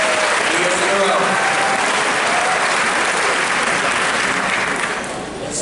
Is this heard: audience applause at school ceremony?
yes